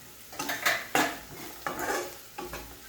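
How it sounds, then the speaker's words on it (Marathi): Chopped onion being stirred with turmeric in a pan, heard as a spoon scraping and clinking against the metal in four separate bursts of stirring, close and clear, with no talking. "हळद टाकल्यानंतर आपल्याला पूर्ण कांदा मिक्स करायचा आहे हळदीमध्ये."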